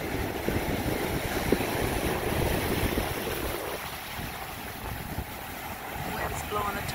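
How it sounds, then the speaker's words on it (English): Wind from the remnants of Tropical Storm Isaias rumbles against the microphone over breaking waves, a loud, continuous outdoor roar with gusts that ease partway through. "Wind's blowing the tops off the waves, but it's windy, but not that windy."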